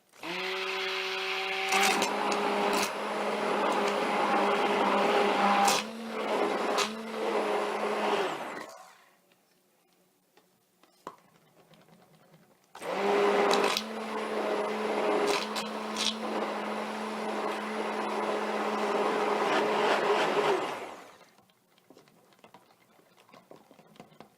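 An electric blender whirs loudly while mixing soft oils for a facial soap bar, running in two long bursts of roughly eight seconds each with a quiet pause between, no talking.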